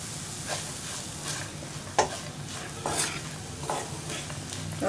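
Manathakkali greens poriyal with grated coconut gets stirred in a pan, soft sizzling under repeated scraping strokes of a spoon, with a few sharper knocks against the pan, close and moderately loud.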